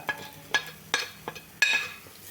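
Ginger, garlic and turmeric are stirred in a pan in short, spaced scrapes and clinks of a spoon against metal, about five strokes, quiet and close.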